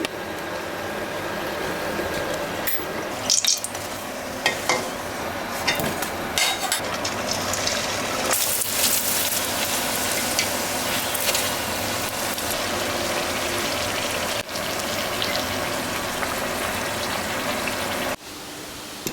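Dal puri frying in hot oil in a home kitchen, a steady dense crackling sizzle running throughout with occasional clicks and knocks, no talk.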